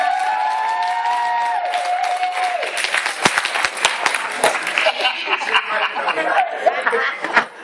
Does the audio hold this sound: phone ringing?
no